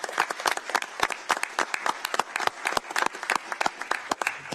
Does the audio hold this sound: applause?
yes